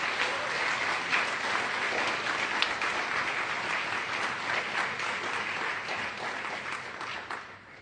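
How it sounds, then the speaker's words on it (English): An audience at a student election results night gives sustained applause for the candidates, a dense, even wash of clapping that tapers off slightly toward the end. "Can we get a round of applause for all the candidates?"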